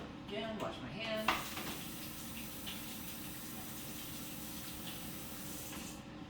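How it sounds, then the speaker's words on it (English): Water runs steadily from a kitchen tap while hands are washed, a continuous hissing flow with a few clinks and splashes near the start. "wash my hands"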